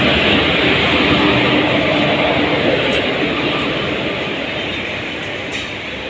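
A train rolls past close alongside, a dense, steady roar of wheels and rail noise that stays loud throughout and eases slightly toward the end.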